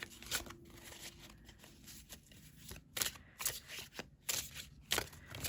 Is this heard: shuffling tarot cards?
yes